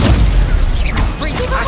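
Confringo fire spell bursting in a Harry Potter video game: a loud, dense explosive whoosh with crackling debris and a rising magical swirl, continuous for under two seconds with no talk.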